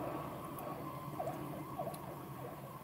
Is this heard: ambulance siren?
yes